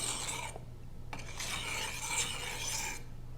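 Quiet, steady rasping strokes of a knife blade drawn across the oiled fine-grain side of a whetstone, several smooth back-and-forth passes with brief pauses between them.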